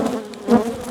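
Honey bees stirred up by smoke from an opened hive, a dense close buzzing drone that holds steady throughout with a brief swell in the middle.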